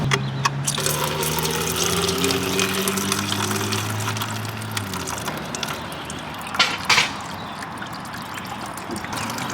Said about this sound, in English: So it looks like the radiator is just about finished draining.